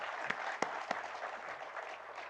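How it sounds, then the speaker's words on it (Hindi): Applause for a mentor at a CSR event, a faint, distant patter of clapping with a few sharper individual claps standing out near the start. "एक बार फिर से ज़ोरदार तालियां हो जाए"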